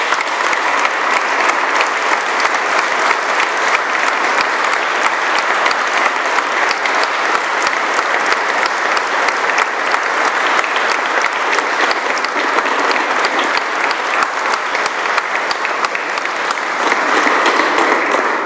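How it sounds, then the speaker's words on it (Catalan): A church full of people gives Don Antonio a big, sustained round of applause, dense and loud clapping running evenly throughout without pause. "aplaudiment a don Antonio."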